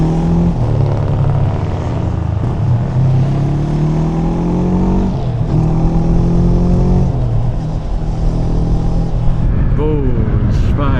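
A big bike motorcycle engine runs steadily while riding through traffic, a loud continuous drone with shifting pitch as it eases off and picks up speed, close and constant throughout.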